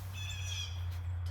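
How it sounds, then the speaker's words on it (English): Outdoors on a gloomy spring day by a porch, a crow caws and other birds call faintly at a distance over a steady low hum. "It might be a gloomy day, but the birds are happy."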